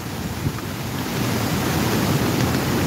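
Storm surge waves pound Nato Port in Sagñay, Camarines Sur, a steady roar of surf and wind that fills the whole stretch with broad, continuous rumble, close and loud, with no voices.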